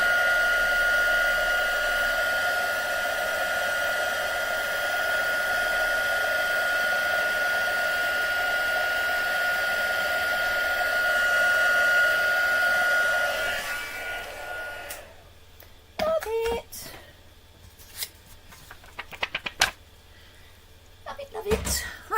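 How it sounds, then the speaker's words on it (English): Heat gun used for heat embossing on a stamping craft project, a steady loud whirring blow for about fourteen seconds, then switched off, followed by scattered desk knocks and handling sounds. "Always love watching heat embossing go."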